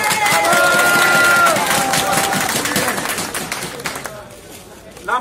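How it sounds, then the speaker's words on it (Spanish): Outdoor gathering for a settlements manifesto where a crowd claps and cheers for honored groups, the applause loud at first then tapering, mixed with crowd chatter and a few voices. "Un fuerte aplauso para ellos también."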